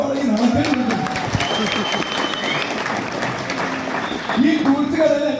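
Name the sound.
audience applause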